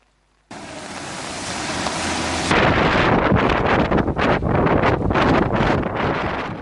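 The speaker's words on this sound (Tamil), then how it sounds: "வளமைக்கு மாறாக கடல் அலைகள் அதிகளவில் ஆர்ப்பரிப்பதால்" Rough sea waves crash during heavy rain and cold weather at Mullaitivu, a loud, continuous roar of surf that comes in abruptly and stays dense and close throughout.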